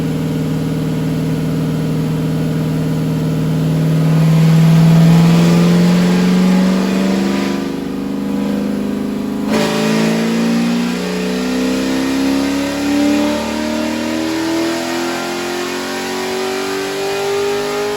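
A solid-roller C5 Corvette V8 revs hard on a dyno, its loud engine note rising steadily in pitch through a long pull before dropping back and climbing again, with no voices over it.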